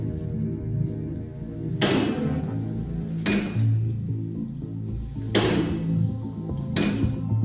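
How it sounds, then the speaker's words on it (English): A large demonstration pendulum mechanism swinging back and forth, its carriage dropping half an inch with each swing, producing four loud metallic clanks and thuds at irregular intervals over a humming background. "the entire carriage or mechanism drops 1/2 inch with every successful swing back and forth of the device"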